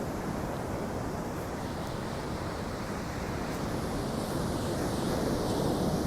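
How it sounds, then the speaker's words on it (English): Ocean surf washes continuously at night, a steady broad roar of waves mixed with wind buffeting the microphone, with no voices over it. "I hope y'all hear the ocean."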